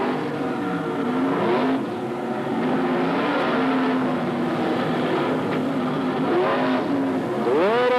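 Race cars circle a slick, slimy dirt oval at Magic City Speedway, their engines revving and rising and falling loudly as they pass through the corners, with several cars overlapping in a continuous roar.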